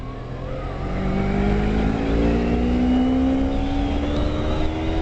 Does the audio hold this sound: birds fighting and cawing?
no